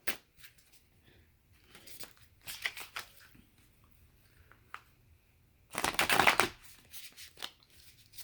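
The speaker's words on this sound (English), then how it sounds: "All right, a few more cards, please, for energy for Libra, this new moon phase." Tarot cards shuffled during a reading produce quiet riffling and sliding bursts at irregular intervals, with one longer, louder shuffle near the end, close by in a quiet room.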